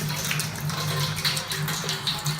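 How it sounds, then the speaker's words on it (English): Water gushes steadily into a brew pot of spring water for brew-in-a-bag beer, a close, continuous splashing pour with a low resonant tone and no voices. "we're just going to add water"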